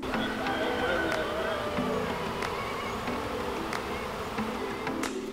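Bees from a hive buzz steadily and close by, a dense continuous drone with shifting pitches, while people talk quietly underneath.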